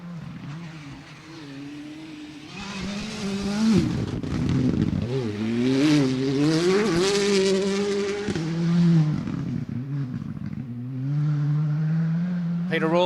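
A rally car on a stage of the 2023 Rally Queensland, its engine note rising and falling loudly as it revs hard through gears and sweeps past, with a steady rumble throughout.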